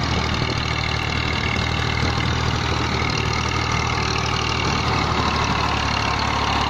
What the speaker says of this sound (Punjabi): tractor M F